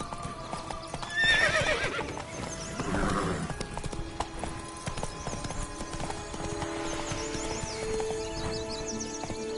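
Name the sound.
horse galloping and neighing in video game The Witcher 3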